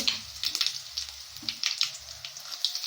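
Broken dried red chillies fry in hot oil for tempering pepper rasam, a close, crackling sizzle with small sharp pops scattered over a few seconds.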